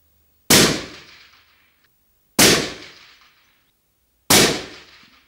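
Three evenly spaced rifle shots fired with a suppressor, each a sharp crack followed by a short fading echo, with silence between them.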